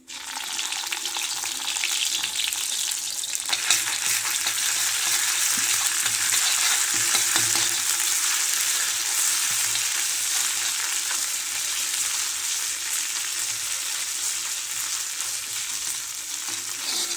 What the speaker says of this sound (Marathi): मोहरी चांगली तड तडतोड द्यायची पण जिरा नाही करपवायची